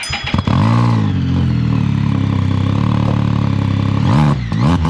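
A Can-Am Spyder F3 fitted with an RLS exhaust add-on revs up, holds a loud, steady deep exhaust drone for several seconds, then drops back and blips again, close and alone.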